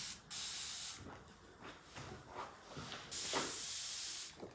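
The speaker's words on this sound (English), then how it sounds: "just go ahead and spray that. Get it nice and wet." Spray bottle misting water onto hair being wetted for a bricklayer perm, several short hissing bursts with a long spray near the end, close and clear with no talking.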